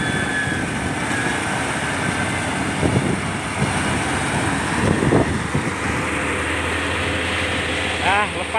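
Trucks grind along a slippery, muddy road in the rain, their engines rumbling steadily with a few louder surges, while people talk nearby.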